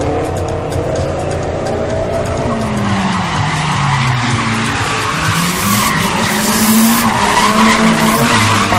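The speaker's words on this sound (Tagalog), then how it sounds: "bumida ang ilang drifters sa malabuwis buhay na pagmamanobra ng kanilang mga astig na wheels" Drift cars at a drifting event in Quezon City, tires screeching and skidding continuously over roaring engines, loud and close, with faint voices in the background.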